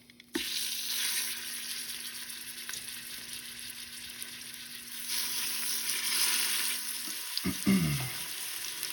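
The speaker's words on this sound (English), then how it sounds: "we're going to sear this meat" Pork meat for carnitas searing in hot oil in an Instant Pot, with a steady close sizzle starting abruptly and continuing throughout, a faint hum underneath and a brief clatter near the end.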